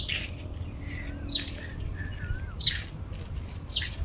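Sparrows chirp in a few sharp bursts, roughly one every second, against a soft constant hum of insects and outdoor village ambience just after rain.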